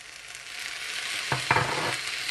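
Chopped tomato goes into a pan of hot oil, and a steady sizzle and frying hiss rise into a couple of brief louder crackles and stirring sounds.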